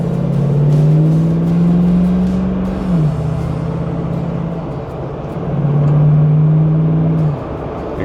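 A 1993 Toyota Land Cruiser RJ70 resto-mod with a V8 swap rumbles through its exhaust, revving up, easing off at a shift, then revving again. It is loud and close from the cabin, with no talking.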